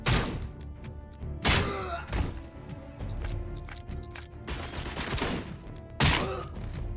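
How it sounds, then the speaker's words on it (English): Heavy shotgun blasts in the RoboCop Rogue City video game, several loud booming shots about a second or more apart amid thumps, clatter and rumbling game noise, close and dense. "When you shoot them in the face with a shotgun."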